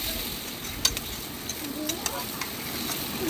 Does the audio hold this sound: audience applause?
no